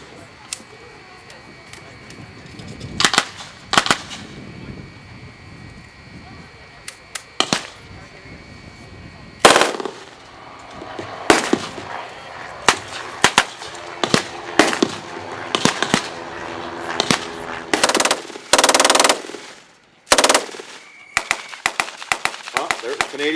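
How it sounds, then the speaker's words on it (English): MG42 machine-gun fire at the Aquino Tank Day 2015 tank battle reenactment at the Ontario Regiment Museum: sharp, loud blank shots and short rapid bursts ring out in the open amid crowd noise and scattered distant reports. "We can't go anywhere as long as these guys got their machine guns happening"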